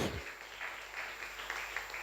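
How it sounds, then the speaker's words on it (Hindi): A church congregation claps loudly in a steady wash of applause that runs throughout, with a brief voice at the very start. "ताली बजाओ जोर से"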